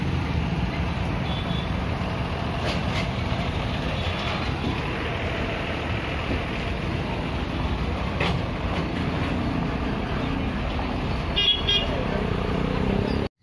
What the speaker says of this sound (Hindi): अभी खुला है, देखो अभी कितना ट्रैफिक है